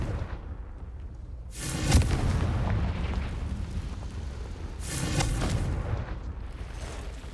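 Confringo explosive spell in Hogwarts Legacy, heard as two separate booming blasts a few seconds apart, each a sharp crack followed by a rolling, crackling rumble over low ambient noise.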